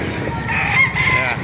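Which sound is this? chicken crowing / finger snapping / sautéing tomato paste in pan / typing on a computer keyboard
chicken crowing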